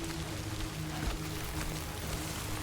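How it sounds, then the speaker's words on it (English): Steady rain falls in the game Death Stranding 2, a constant hissing patter with a low droning hum underneath, no voices. "Should give me shelter from the rain for a few seconds."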